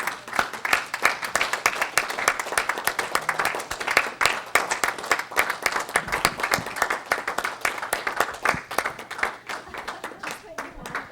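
Board of Education meeting applause for a retiring assistant to the superintendent: a fairly quiet, even patter of many hands clapping, with some talk faintly underneath.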